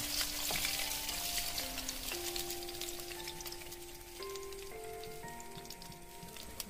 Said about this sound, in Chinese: 然后倒入鸡蛋液，慢慢倒入鸡蛋液。